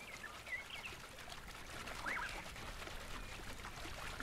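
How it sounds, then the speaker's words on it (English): A crocodile blows bubbles underwater in a river, a faint, continuous gurgling trickle that swells slightly midway. "creating a crocodile jacuzzi, blowing bubbles to get them in the mood"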